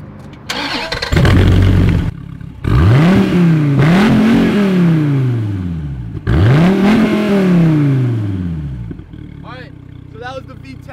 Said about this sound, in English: we're gonna go ahead and start the engines, do a little rev off before we get the race started